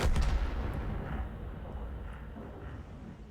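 In World of Tanks, a 60TP Lewandowskiego tank fires with a heavy artillery boom, followed by a low rumbling echo that slowly fades.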